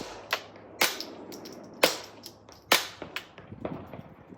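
Suppressed .22LR shots from a Ruger MK3 or MK4 pistol, about five sharp cracks at uneven intervals, each with a short tail. Several are louder than the rest, and no voice is heard.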